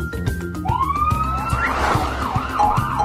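A cartoon ambulance siren wails in rising and falling sweeps over a steady backdrop of rhythmic cartoon music, loud and continuous with no talking.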